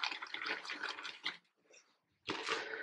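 Water is splashed and trickled into a shaving soap bowl close by, in two short watery bursts separated by a pause.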